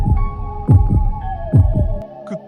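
A pounding heartbeat sound effect in a Hindi horror story: two pairs of deep, heavy thumps beat slowly over a steady low hum, which cuts off near the end.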